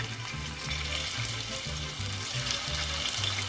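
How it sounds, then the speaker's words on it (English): Diced pork browns in hot oil in a pot for pozole, giving a steady crackling sizzle with soft stirring scrapes, fairly quiet and without talk. "we're going to start adding our diced up pork to some hot oil"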